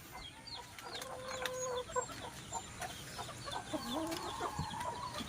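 Farm chickens clucking close by in a muddy yard, a run of short clucks and a few longer drawn-out calls scattered over several seconds, with no talking.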